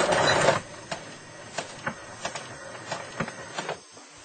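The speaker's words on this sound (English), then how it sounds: "and now I can do the stitching" A sewing machine stitches a fabric table runner, giving a short burst of whirring followed by a series of soft, evenly spaced mechanical ticks, close and alone.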